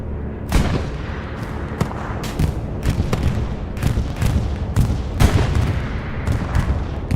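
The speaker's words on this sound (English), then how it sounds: "Bombing run starting to come in over that airhead." Aerial bombing run in the Hell Let Loose game at Utah Beach: a dense barrage of heavy explosions and booming blasts, several sharp strikes standing out over a constant rumbling roar, loud and sustained without voices.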